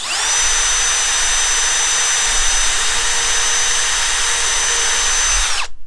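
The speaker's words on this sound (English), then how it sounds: "I'm going to drill down into the wood, not real far" A small drill bit bores a short pilot hole into wood for an eye bolt, a steady, close, high whine running continuously for several seconds before stopping abruptly.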